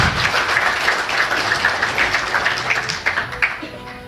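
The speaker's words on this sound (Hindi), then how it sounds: "मैं चाहता हूं एक बार हम लोग बहुत जोर से तालियां बजा दें" Loud applause from a gathered audience at a community meeting, a broad continuous clatter of clapping with some individual sharp claps standing out, holding steady throughout.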